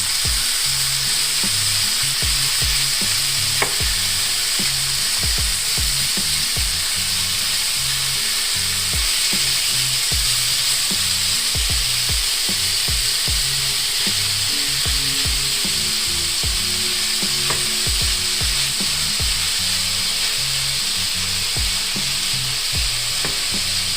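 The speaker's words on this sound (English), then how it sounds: "You want to brown the meat real nice." Beef short rib sizzles and fries loudly in a hot pan, a constant close crackle with frequent scraping stirs and taps of a spatula breaking up the meat, no one speaking.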